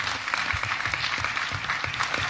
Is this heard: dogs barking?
no